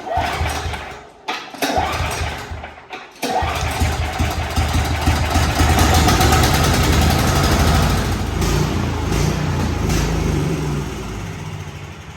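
Small snow blower engine being pull-started and left running to burn off the remaining carburetor gas during off-season storage: a few sputtering pulls, then a loud, steady close-up chugging idle that carries on to the end.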